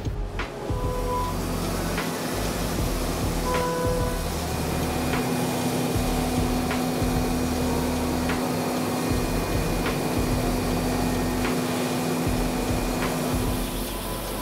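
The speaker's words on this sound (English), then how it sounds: "A bunch of our CNC mills are running different parts for the tool." CNC mills machining aluminum blanks for tool bodies in a machine shop, heard as a steady, loud mechanical drone with continuous whine and hum throughout, no talking.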